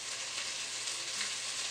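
Oil sizzles steadily in a pan while a yellow curry base is sautéed for a Vietnamese shrimp and tofu curry, a close, continuous crackling hiss with no voices.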